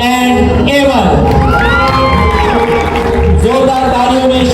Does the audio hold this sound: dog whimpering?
no